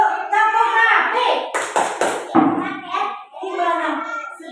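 Children in a classroom do a rhythmic clap routine, chanting together in short bursts with a cluster of sharp, close hand claps in the middle, their voices carrying throughout.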